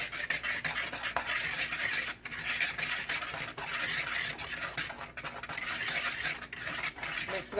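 Cornstarch being mixed for a rhubarb and strawberry pie filling, a steady close rubbing and scraping of a utensil in a bowl that continues without pause.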